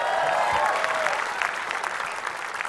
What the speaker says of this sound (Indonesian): Tepuk untuk teman-teman di studio, luar biasa.